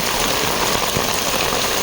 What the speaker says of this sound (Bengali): তো জুম্মার নামাজের আগেই বৃষ্টি অসম্ভব সুন্দর লাগছে আজকে আল্লাহর রহমতে।